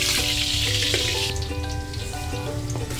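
Chili finger sautéing in hot oil for chicken curry gives a steady, close sizzle and frying crackle that runs unbroken throughout, with faint tonal kitchen sounds in the background.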